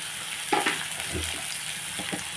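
Mutton sizzles steadily in a hot pan with turmeric and salt, a continuous crackling fry broken by a few soft stirring scrapes, close and moderately loud with no talking.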